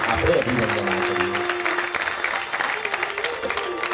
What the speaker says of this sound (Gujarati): હાથ ઊંચા કરી તાળીઓથી રત્નપુક્ષી માતા પિતાને આપણે અભિનંદન આપીએ.